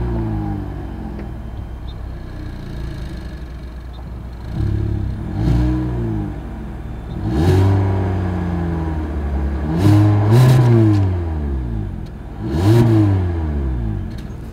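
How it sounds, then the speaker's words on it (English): The exhaust of a 2024 Hyundai Elantra idles, then is revved several times in a row, each blip rising and falling in pitch before settling back to a steady idle. The sound is close and loud, with no talking. "As always, here is that exhaust clip."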